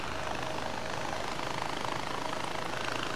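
A helicopter in the video game Far Cry 4, a steady broadband rotor and engine drone holding at an even level throughout, with no talk over it.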